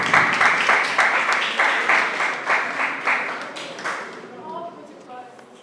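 Audience applause for a student debater from Oxford Brookes at a schools debate grand final, a steady round of clapping that swells and then fades over several seconds, with a voice speaking over it near the end.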